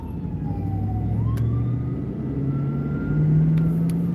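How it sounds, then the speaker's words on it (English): An ambulance siren wails with slow rising and falling tones over a loud rumbling vehicle engine, close and continuous. "Ambulance."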